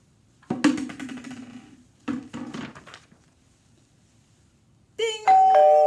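A doorbell rings clearly in a quiet indoor setting, two separate chimes followed by a sustained electronic ding-dong tone.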